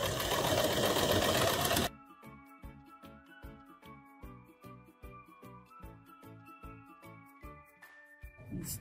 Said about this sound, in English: So we start sewing all around.